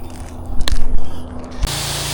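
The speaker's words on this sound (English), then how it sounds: "get the pressure washer started up so we can wet down the grass" A pressure washer sprays in a steady hissing rush over a low motor hum while wetting down grass, with a couple of sharp clicks and a brighter burst near the end.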